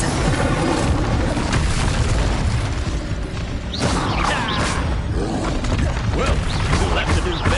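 Incendio fire spell bursting in Hogwarts Legacy combat, a dense roaring whoosh of flame layered over booming game effects and music, loud and continuous throughout.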